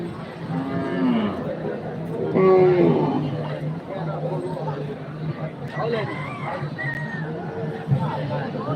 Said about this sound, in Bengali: শাহিওয়াল সিন্ধি জাতের এই গরুগুলি কিন্তু দর্শক হাটে কিন্তু আপনারা কিনতে পারবেন